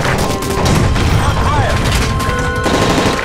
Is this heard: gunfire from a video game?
yes